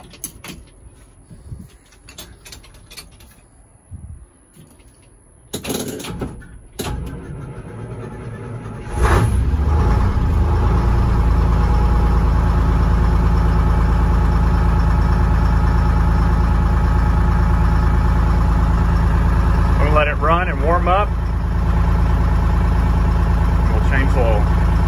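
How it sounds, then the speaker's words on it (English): A 1976 International fire truck's Detroit 6V53 two-stroke diesel cranks with a few short bursts, then catches and settles into a loud, steady idle close by, with a brief squeal partway through. "Let's crank this thing up."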